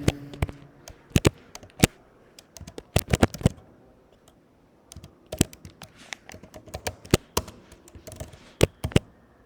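Close computer keyboard typing of HTML code comes in irregular bursts of sharp key clicks with short pauses between them.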